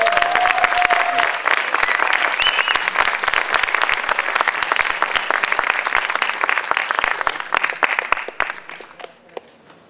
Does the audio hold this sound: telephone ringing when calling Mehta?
no